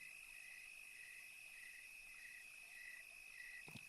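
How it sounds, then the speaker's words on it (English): Crickets chirp in a steady, continuous high trill, faint and distant, against a quiet nighttime background. "Crickets."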